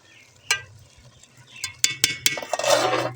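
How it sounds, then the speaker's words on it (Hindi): Rice being stirred once in a pot while cooking aloo chana pulao, with a few sharp spoon scrapes and clinks against the pot over a low sizzle, close and fairly loud with no talk. "चावल जो है वो एक बार ही हिला लेंगे।"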